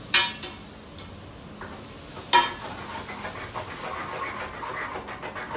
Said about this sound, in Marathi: आता आपण टाकतोय हे जे वाटण बनवलंय ते